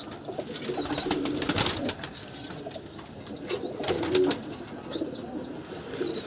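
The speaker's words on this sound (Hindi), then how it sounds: "गोल्डन कबूतर है बेसिकली" A golden breeder pigeon coos in repeated soft, throaty phrases close to the microphone, with other birds and flutters of wings and a busy loft murmur in the background.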